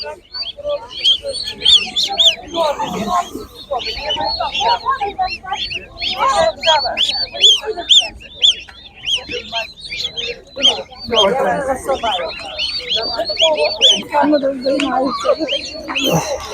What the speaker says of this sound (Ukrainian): І домашні індики. Є гуси домашні, такі людські гарні.